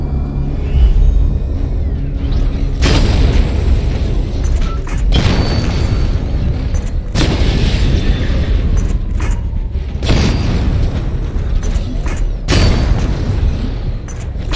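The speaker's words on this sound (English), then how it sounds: "Destroy targets to charge up weapon energy and activate missile barrage." Loud explosions from destroying targets in Batman: Arkham Knight, a sustained rumbling barrage with heavy booming bursts recurring every couple of seconds, continuous and without talk.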